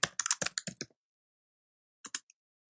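Keystrokes on a computer keyboard while HTML code is entered: a quick burst of about eight close, crisp taps, a long pause, then two or three more clicks.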